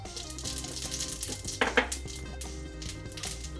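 Mustard seeds and cumin sizzle in about two spoons of hot oil in a home kitchen pan, a steady close frying hiss with a few sharper pops and crackles scattered through.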